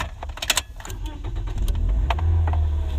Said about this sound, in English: Pardon me as I turn the car on.